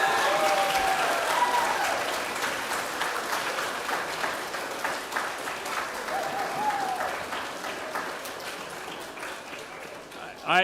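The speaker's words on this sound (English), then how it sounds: "Let's clap and give yourself congratulations and welcome." Audience clapping at a university matriculation ceremony, a broad sustained round of applause from a large crowd with scattered cheers and voices, gradually easing before a brief louder bump at the end.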